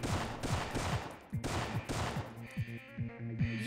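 Repeated gunfire from the video game Syphon Filter 2, set in a women's prison, sounds as quick shots over a steady background music bed, moderately loud, with brief gaps between bursts.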